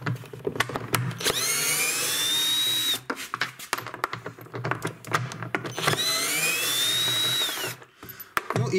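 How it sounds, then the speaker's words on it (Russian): Cordless screwdriver backing screws out of the tub of an LG washing machine, heard as two long close whirring runs with the pitch rising as each screw spins free, separated by clicks and handling clatter. "Один сначала срывается, потом их можно просто шуруповертом."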